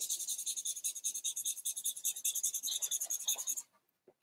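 A pen draws lines on paper in quick, rhythmic scratchy strokes, close and clear, for about three and a half seconds before stopping.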